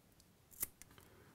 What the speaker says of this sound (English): you can just take a pair of scissors and trim off the wick